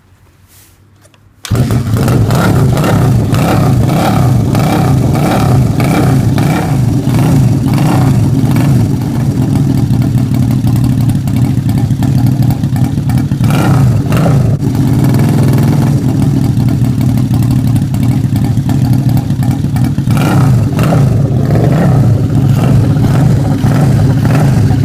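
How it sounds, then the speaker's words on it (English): A Millyard Honda SS180 V-twin motorcycle engine revs freely and loudly up close, its throttle blips rising and falling steadily after a brief quiet start, with no talking. "The SS180 has a totally different sound to the SS100s and is very free revving."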